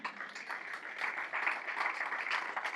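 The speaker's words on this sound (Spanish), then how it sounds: "¿No le damos un aplauso al Señor?" A church congregation claps for the Lord during a sermon, giving a dense, steady burst of applause that stays fairly loud throughout and sounds somewhat distant and roomy.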